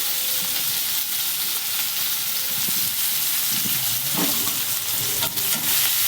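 Onions and green chillies are dropped into hot oil just after frying fish, and they hiss in a dense, continuous sizzle while scraping stir strokes recur close by.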